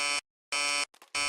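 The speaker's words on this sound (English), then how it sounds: "Wait, the alarm clock again?" An alarm clock in the horror video game Emily Wants To Play Too blares in harsh electronic buzzes, two long bursts broken by silence and a short stuttering flutter before a third buzz starts.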